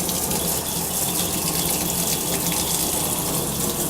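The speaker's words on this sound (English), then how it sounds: "Turn on that water. Cold water." Cold water gushes steadily from a kitchen tap into a sink, a loud, continuous close-up rush with no pauses.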